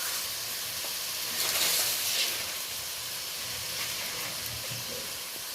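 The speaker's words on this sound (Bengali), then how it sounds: "এইভাবে ভালো করে আমি ফোড়নের সাথে গ্রেট করা পেঁয়াজ আর টমেটোটা ভালো করে নেড়ে নিচ্ছি।" Grated onion and tomato sizzle and hiss in hot oil with spice tempering, a steady close frying noise with brief louder bursts as the pan is stirred.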